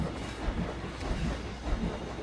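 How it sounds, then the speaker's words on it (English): A train climbing a mountain track in the Planet Coaster game, in a Polar Express recreation, gives off a steady, close rumbling clatter with a hiss. It plays alone, with no talk. "just gotta wait till the train makes it to the top"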